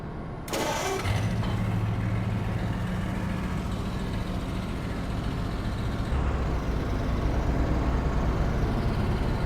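A tractor engine in Farming Simulator 22 cranks and catches, then settles into a loud, steady low idle that holds close and continuous with no talking.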